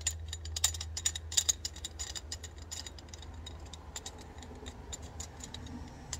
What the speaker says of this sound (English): And you just tighten everything back up, like such.